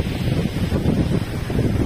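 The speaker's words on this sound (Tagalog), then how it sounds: "Kaya medyo may alon-alon, may hangin malamig." Wind gusts rumble across the microphone by choppy water in a low, blustery roar that keeps going without a break.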